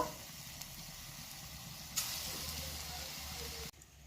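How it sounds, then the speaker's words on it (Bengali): Small bora fritters sizzling in hot oil, a steady soft hiss of frying that flares slightly midway and then cuts off abruptly near the end. "এখন আমি ছোট ছোট করে বড়া ভেজে নেব"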